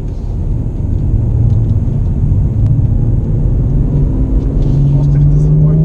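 A BMW M2 or M3 on a race track gives a loud, continuous engine roar, with the pitch climbing steadily as the car accelerates.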